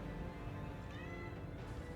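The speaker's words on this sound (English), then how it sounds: "Meow." A cat gives a drawn-out meow, close and clear, over a constant dense background from a game session; no talking is heard.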